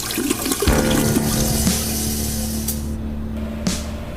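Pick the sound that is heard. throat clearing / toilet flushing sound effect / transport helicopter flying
toilet flushing sound effect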